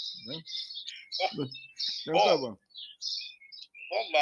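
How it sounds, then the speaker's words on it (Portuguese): A small bird chirps and trills repeatedly in bright, short bursts near a phone caller, interleaved with people talking. "Quem é o passarinho que está cantando aí do teu lado?"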